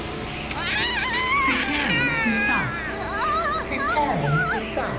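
Several cats in Yakuza: Like A Dragon meow over and over in overlapping, rising and falling cries, loud and near, over a steady game backdrop with voices mixed in.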